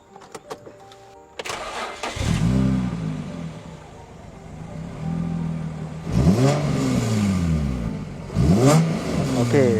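A V6 3.5-litre car engine fitted with an Akrapovic exhaust cranks and fires up near the start, then idles with several loud revs rising and falling, close and alone.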